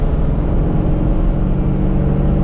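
A drag car with a high-stall torque converter and automatic transmission holds at converter stall, giving a steady, loud, close engine rumble with a low throbbing exhaust drone and no breaks.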